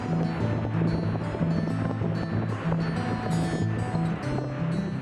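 A steady, roaring wash of falling water from Niagara Falls fills the clip, loud and continuous with a broad rushing texture and no pauses.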